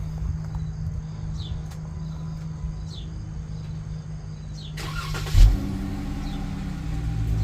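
A Jeep Wrangler fitted with a new axle-back exhaust cranks and fires up after a low steady idle hum, the engine catching with a brief loud burst and settling into a rumbling idle amid outdoor insect chirps.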